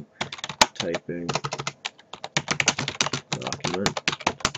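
Rapid bursts of typing on a computer keyboard while writing in Google Docs, close and crisp clicks in uneven runs with short pauses, alongside a voice talking.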